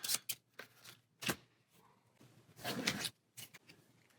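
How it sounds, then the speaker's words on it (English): Playing cards are shuffled for a solo tabletop card game, several quick riffling bursts with short pauses between, close and crisp against a quiet room. "And do some shuffling with those."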